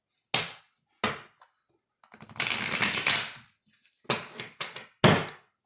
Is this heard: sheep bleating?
no